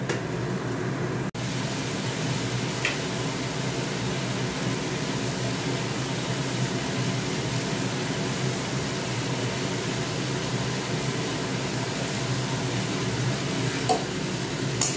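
Pointed gourd (potol) fries in a pan, a steady, even sizzle that holds at the same level throughout, close by and with no talk over it.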